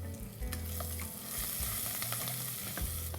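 Asafoetida, cumin, chopped green chillies, ginger and whole red chillies fry in hot oil, a dense close sizzle with popping crackles and low stirring thumps throughout.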